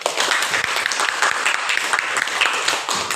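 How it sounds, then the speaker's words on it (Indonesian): Primary school pupils in a classroom clap together in a brisk, sustained round of applause, close and fairly loud, with a few voices mixed in. "Kasih tepuk tangan."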